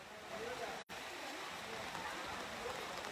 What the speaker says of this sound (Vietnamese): Chết rồi, mưa rồi, khách xem xe mà mưa quá.